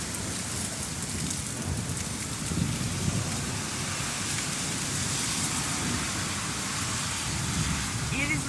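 Heavy rain from a Kansas storm pours down in a dense, continuous roar, with low rumbling beneath and no pause in the downpour.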